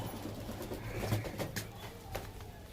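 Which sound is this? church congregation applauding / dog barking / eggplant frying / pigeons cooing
pigeons cooing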